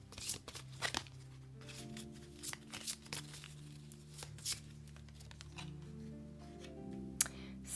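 Oracle cards are handled and shuffled, with soft papery riffles and slides in scattered bursts, quiet and close over a steady low background hum.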